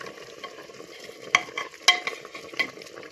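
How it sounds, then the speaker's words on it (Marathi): Chicken is stirred in a pressure cooker with a little added water, giving a soft sizzle beneath several sharp metallic scrapes and clinks of the spoon against the pot, with no speech. "आणि आता थोडंसं मिक्स करून घ्यायचं आहे."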